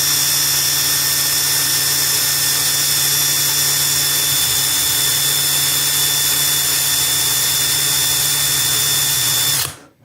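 A MEKIBOR 800NM cordless impact wrench runs continuously at steady speed, a loud sustained whine with a slight change in pitch midway, then spins down at the end.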